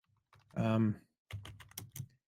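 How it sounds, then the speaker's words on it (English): Computer keyboard typing during a podcast recording, a sustained burst of rapid clicks followed by a second, more scattered run of keystrokes, fairly close and moderately loud, with no speech over it. "pardon the typing"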